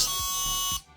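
A short harsh electronic buzz from a 1980s Space Invaders handheld electronic game as the player dies, pulsing briefly before abruptly cutting off, followed by a faint blip.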